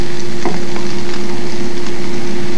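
Food sears in a hot pan, a dense, continuous loud sizzle with faint crackles and a steady hum underneath throughout.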